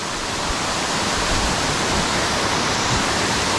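Bolinao Falls in Pangasinan roars as a dense, steady rush of falling water, loud and close, filling the whole stretch without any voices.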